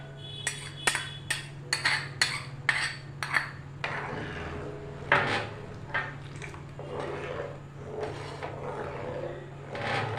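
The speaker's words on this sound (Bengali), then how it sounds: "দুধটা খুব সুন্দরভাবে আমি গুলিয়ে নিয়েছি।" A spoon stirs milk into hot water in a metal pot, starting with a quick series of sharp clinks against the sides, then easing into softer, irregular scraping and swirling.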